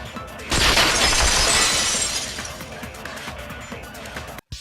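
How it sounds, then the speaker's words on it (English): Glass from a window shatters in the game Danganronpa 2, a sudden loud crash followed by a long bright spray of breaking shards that slowly thins out before cutting off. "Heard the sound of the window shattering."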